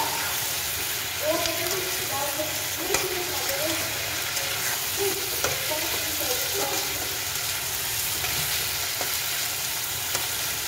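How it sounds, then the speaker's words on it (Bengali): Paneer fries in a pan for chilli paneer, giving a continuous dense sizzle with occasional stirring scrapes, close up, while a voice talks faintly underneath. "দেখুন, আমার ভাজা ভাজা হচ্ছে, মানে হয়ে গেছে প্রায়।"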